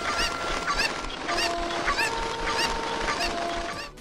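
Cuckoo chickens squawking in The Legend of Zelda video game, a flurry of repeated clucks and honking cries at steady moderate volume, several birds overlapping throughout.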